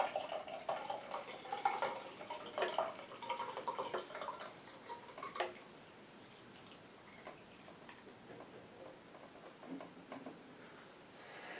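Blended juice poured through a sieve after processing in a Greenis Commercial DC vacuum blender FGR-8800, a close, steady liquid splashing and trickling that fades after about five seconds into faint dripping.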